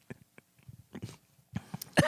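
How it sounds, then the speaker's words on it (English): A few short, sharp coughs, close and fairly loud, scattered across the moment with quiet gaps between them, the last burst the strongest. "sorry about the cough"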